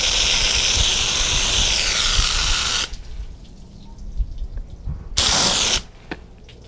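Water from a garden hose sprays onto car window glass treated with a hydrophobic ceramic coating: a loud, steady hiss that cuts off abruptly, followed by drips and light splashing, then another short burst of spray before it stops again.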